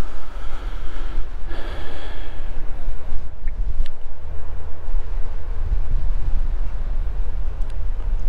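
Strong gusting wind at Liverpool's Anfield stadium, a loud, continuous low rumble buffeting the microphone, with faint breathy noises near the start.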